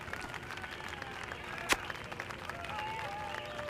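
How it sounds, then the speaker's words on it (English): A crowd cheers and applauds during a cutscene in The Simpsons Game video game, a dense, steady roar of clapping and voices with one sharp impact partway through. "I just can't hear you over the roar of this appreciative crowd."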